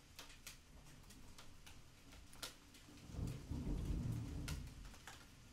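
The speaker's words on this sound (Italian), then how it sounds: "stiamo registrando questa lezione nel mezzo di un temporale" Rain patters outside during a thunderstorm, faint and distant, with scattered drip ticks and a low rolling rumble of thunder swelling midway, heard alone without talk.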